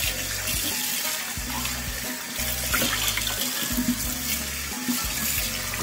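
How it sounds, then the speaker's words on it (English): Tap water runs steadily into a sink while turkey wings are washed, a loud continuous splashing stream with rhythmic sloshing as the wings are turned around in the water. "So I'm just washing round and around and around to make sure that it's clean."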